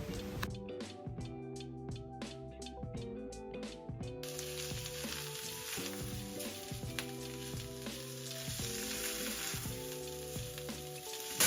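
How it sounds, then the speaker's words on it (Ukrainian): Steady sizzling of carrots frying in a pan, continuous and close, with music playing throughout. "Після цього додаємо морку і смажимо це все разом ще приблизно 5-7 хвилин."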